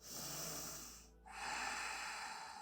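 A deep, slow breath during a yoga session, a long airy exhale followed by a brief pause and then a fuller inhale, close and moderately loud with no talking.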